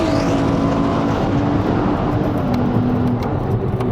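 A Ferrari 296 GTS, an 830-horsepower V6 plug-in hybrid spider, roars loudly and continuously on a race circuit at high revs, with the engine note holding steady and shifting slightly in pitch throughout.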